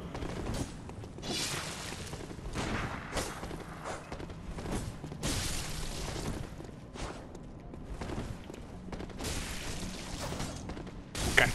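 Repeated heavy cannon booms and blasts in Bloodborne, one after another, over dense background noise, ending in a sharper bang.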